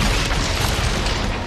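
Explosions roar through a war battle scene with rubble, dust and gunfire, a dense, loud, continuous rumbling blast that fills the short moment without pause.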